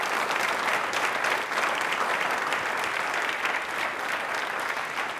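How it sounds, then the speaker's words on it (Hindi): Loud, sustained audience applause at a televised Independence Day quiz show, dense even clapping that fills the whole stretch with no voice over it. "तालियां प्लीज एक बार जोरदार हो जाएंगे"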